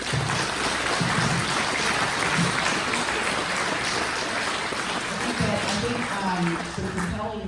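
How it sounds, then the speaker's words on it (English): Sustained applause from an audience in an event center at a water summit, a dense steady wash of clapping filling the whole stretch, fairly loud and close with some voices mixed in. "So give Andy a round of applause."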